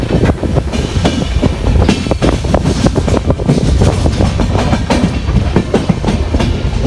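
A train at Pathankot railway station in India, with steady loud rumbling and rapid clickety-clack wheel beats running continuously close by.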